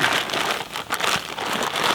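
Close, continuous crinkling and rustling of a plastic tent tarp being handled and rolled up while camping, with a dense, rain-like texture.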